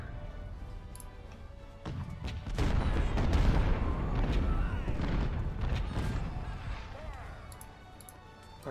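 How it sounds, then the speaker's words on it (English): Cannon artillery fire in Ultimate General: Civil War, a rumbling, sustained barrage of booms that builds after a quieter opening, peaks midway and then fades, with overlapping distant blasts throughout. "I want all cannons to target Fry"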